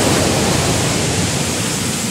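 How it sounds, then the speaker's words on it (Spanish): Rough sea breaking on the Costa Verde coast at Miraflores, a constant broad roaring wash of surf that stays loud and steady throughout with no voices. "el mar sí está un poquito bravo"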